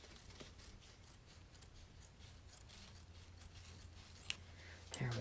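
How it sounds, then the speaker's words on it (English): Scissors trim quilt batting held in an embroidery hoop, giving faint, quiet snipping and rubbing close by in a hushed room, with a couple of sharper clicks near the end. "I'm going to trim my batting now before I take it out of this hoop"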